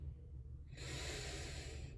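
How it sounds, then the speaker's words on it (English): A single slow, deep breath is drawn in softly and close, a faint airy rush that swells halfway through and holds, quiet and alone. "Take a nice deep breath."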